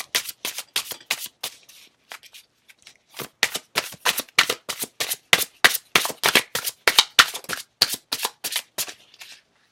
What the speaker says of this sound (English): let me shuffle first.